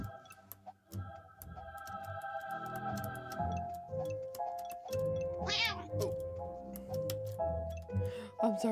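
Several drawn-out cat meows and whining calls rise and fall over a steady ticking beat and faint background music, the cries fairly close and moderately loud.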